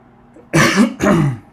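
Two rough coughs or throat-clearing bursts, close and fairly loud, with a short pause between them; no speech.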